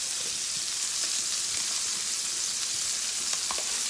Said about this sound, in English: We're sauteing.